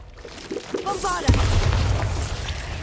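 A spoken spell incantation is followed by a sudden heavy blast as the Bombarda blasting charm detonates in Hogwarts Legacy, a loud boom with a rumbling tail.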